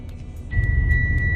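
A car rolls into a ferry port in Sweden with a low, steady engine rumble up close; a thin, constant electronic tone joins halfway through.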